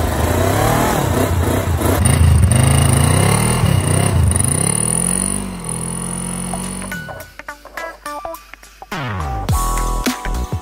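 A used budget motorcycle engine revs hard in a close, loud burst of rising and falling pitch for about seven seconds, then drops to a rough idle with mechanical clatter and knocking.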